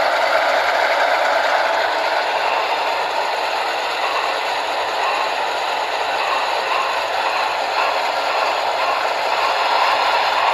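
A Broadway Limited Union Pacific Big Boy 4014 model steam locomotive hauls a string of model diesel engines in a tug of war, giving a steady, close mechanical whir and rolling rattle with a sustained broadband hiss and no talking.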